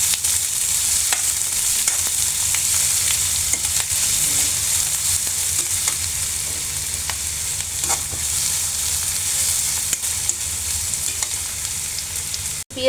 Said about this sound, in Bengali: এটাকে আমি একটু বেরেস্তার মতো করে হালকা ভেজে নেব।